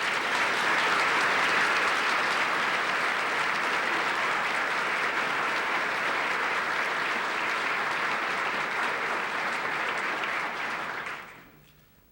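An audience at an ambassador's swearing-in ceremony claps loudly and continuously for about eleven seconds, a dense, sustained wash of applause from a large crowd that fades out quickly at the end.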